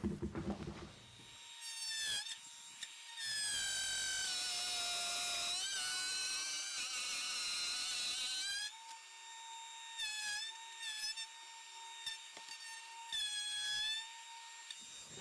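A top-bearing router bit cuts through a plywood sheet, following an existing slot as a template, with a loud, sustained high-pitched whine that rises and holds, dips briefly, then resumes in shorter revving bursts.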